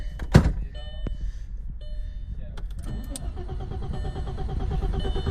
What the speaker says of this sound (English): Let's just at least make sure she's still crank.